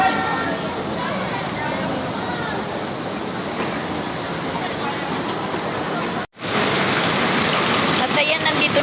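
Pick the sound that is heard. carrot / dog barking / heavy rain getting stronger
heavy rain getting stronger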